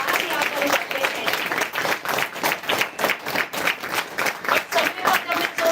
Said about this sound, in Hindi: एक बार फिर से तालियों से उनको धन्यवाद ज्ञापन करते हैं